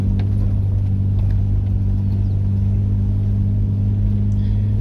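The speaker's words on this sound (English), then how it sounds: "both vehicles handling that little climb quite comfortably" Four-wheel-drive vehicles grind up a short climb on a dry clay bush track, a loud, steady low engine drone with constant rumble and no pauses.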